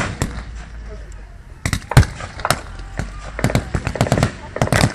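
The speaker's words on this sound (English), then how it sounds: "small round fire being trained on them and tank rounds landing amongst them" Small-arms gunfire and tank rounds at a battle re-enactment at Bovington, heard as a rapid series of sharp, loud cracks and bangs that cluster in bursts over a steady low rumble.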